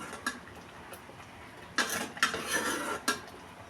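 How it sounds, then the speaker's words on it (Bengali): A spoon stirs lentils and jute greens in a metal pot, making a few quiet scrapes and clinks at irregular moments over a soft background. "নেড়ে চেড়ে ডাল আর শাক মিশিয়ে নিলাম একসাথে।"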